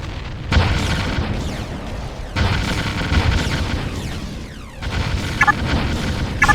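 Enemy buildings exploding in the Ground Control strategy game: loud, heavy booms arriving in several distinct waves, each burst followed by rumbling debris and crackle, with no voices.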